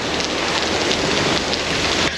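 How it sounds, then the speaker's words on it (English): A squall of heavy rain and gusting wind on the road between Lucinda and Cairns, a loud, dense, unbroken roar of pounding rain with no voices. "It comes through in these like crazy squalls of like wind and shooting rain for like 15 minutes and then it's gone again."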